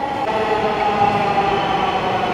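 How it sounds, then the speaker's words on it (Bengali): A Dhaka Metro Rail train rolls into the station with a steady, fairly loud rumbling hum and a faint electric whine over a couple of seconds, with no one talking. "আর আমাদের ট্রেন চলে এলো"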